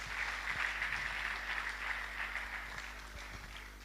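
A church congregation claps during a worship service, a steady, fairly faint wash of many hands over a low electrical hum, continuous and even without clear speech.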